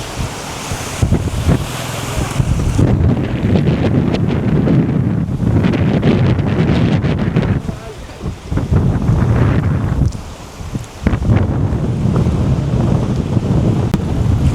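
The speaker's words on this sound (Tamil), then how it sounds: "சரியான மாதிரி காற்று அடிச்சு கொண்டிருக்குது" Strong wind gusting around a palmyra palm tree during flood weather, heavy rushing roar and microphone buffeting that surges and drops in uneven bursts, loud and close, with no speech.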